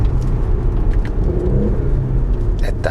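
An Audi SQ5 with a 3.0L V6 TFSI engine accelerating hard in sport mode, a loud steady engine roar building from inside the cabin, with a brief exclamation near the end.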